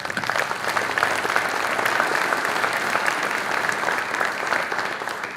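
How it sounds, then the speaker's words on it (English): An audience at a Space Force Association event claps steadily in a dense, even round of applause that holds at a strong level from start to finish, with no voices standing out. "Round of applause for that."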